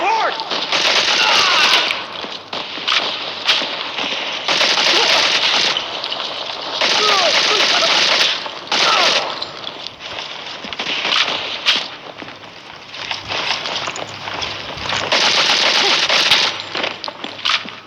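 Rapid automatic gunfire and single shots crack through a firefight in the video game MC4: Zero Hour, loud and close in repeated bursts, with shouting voices over the shooting.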